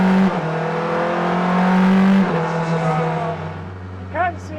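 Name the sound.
Porsche 963 hypercar engine firing up after bump start, very loud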